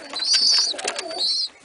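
Pigeons cooing up close in a short, soft burst of throaty, warbling coos, with two rising call phrases and no talking.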